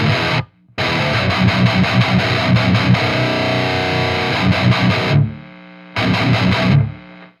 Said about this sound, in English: When you have that saw function all the way up, it makes the noise gate really struggle to kind of rein in the noise